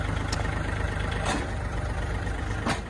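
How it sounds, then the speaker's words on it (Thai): A Kubota L4018 tractor, a used 2023 model with about 500 hours, idles steadily at close range with a low, even engine drone and no talk over it. "เครื่องยนต์ติดง่ายนะครับ เสียงเครื่องปกตินะครับ"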